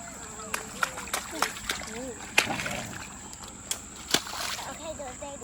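Children splash in an ice-cold spring creek on a summer day, with water sloshing and a series of sharp splashes close by, under lively talk and voices throughout.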